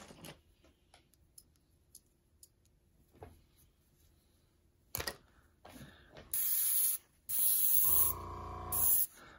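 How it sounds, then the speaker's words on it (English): An airbrush sprays thinner in short bursts: after quiet clicks and faint handling noises, several loud, close hissing blasts start and stop, each lasting about a second. "Let me give this airbrush thinner."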